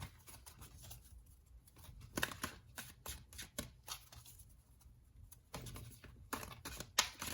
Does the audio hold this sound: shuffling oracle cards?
yes